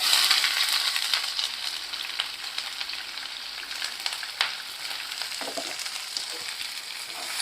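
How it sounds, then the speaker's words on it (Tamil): Shallots, onion and curry leaves sauté in a pan with a continuous close sizzle, broken by occasional stirring scrapes throughout. "இதை நல்லா வதக்கிடலாம்"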